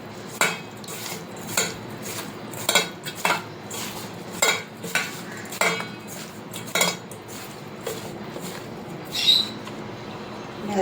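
Fish is hand-mixed with turmeric and raw mustard oil in a metal bowl, close, irregular clinks and taps against the bowl with soft squelching between, about a dozen knocks spread evenly.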